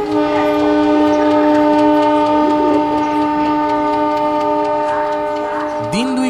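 A train sound effect in a Bengali suspense audio drama: a steady train horn or whistle drones loudly throughout, with a rising tone near the end, over a faint voice.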